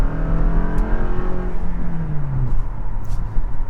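A 2022 Toyota Camry XSE AWD with a 16-valve gasoline engine accelerates up a hill, its steady engine drone rising in pitch as it revs, heard from inside the car with no talking.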